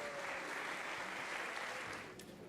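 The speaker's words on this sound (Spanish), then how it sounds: "Un aplauso gigante" A large round of applause from the audience at a Nerd Nite science talk night in Santiago, dense continuous clapping that fades near the end.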